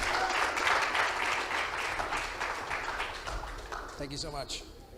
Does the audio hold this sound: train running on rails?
no